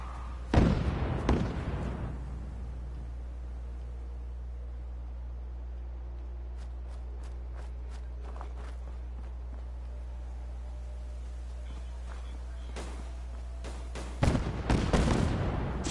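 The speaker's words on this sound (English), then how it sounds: "Oh, one of my provision bots is shooting bugs" In Fallout 4, a provision bot fires at a bloatfly in a settlement: short bursts of sharp gunshots near the start and end, with scattered distant pops and thuds in between over a steady low hum.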